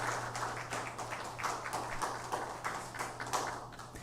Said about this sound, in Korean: 오늘의 온 찬양해 주신 성가대원들에게 다시 한번 감사의 박수하겠습니다.